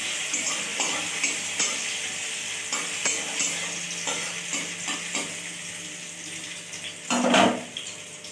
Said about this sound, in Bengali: আদা রসুনটা অল্প করে ভেজে নেব